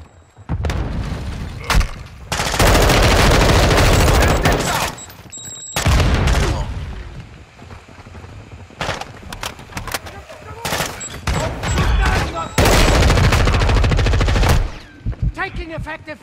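Automatic gunfire in Call of Duty DMZ hammers out in loud sustained bursts and scattered shots, close and heavy, broken by short pauses, with occasional voices beneath.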